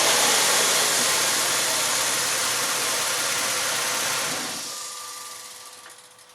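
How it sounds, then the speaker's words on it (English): A car engine, idling during an ignition coil check, runs at a steady hum and then shuts off, the sound dropping away sharply after about four seconds to near silence. "I'm gonna shut the car off"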